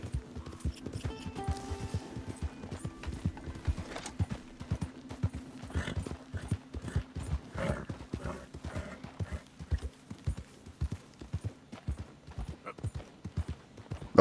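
Horse hooves clip-clop in a steady walking rhythm across the ground in the video game Red Dead Redemption 2, with an occasional faint whinny, moderately quiet and alone.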